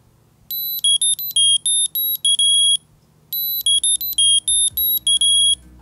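A UGreen Find My tracker card sounds its alarm: two bursts of high, rapid electronic beeps separated by a short pause, loud and close with no talking.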